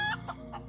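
A chicken clucks in the space-survival video game Breathedge, with a few short, close clucks in quick succession over a steady low game hum.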